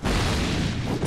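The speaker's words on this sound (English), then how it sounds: "I could not see through the explosion there." A loud, sustained explosion booms in the Dark Souls II video game, a dense broadband roar filling the whole moment without a break.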